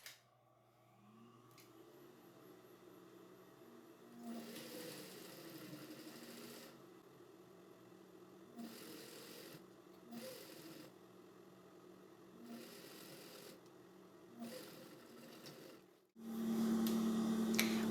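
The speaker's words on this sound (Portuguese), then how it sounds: "Vou passar uma costurinha também de um pé de máquina com a faixinha dobrada pra gente fazer um debrum." A sewing machine with a presser foot stitches a folded fabric binding strip, its motor whirring in several steady runs separated by short pauses, close and moderately loud, ending in a louder, more sustained hum.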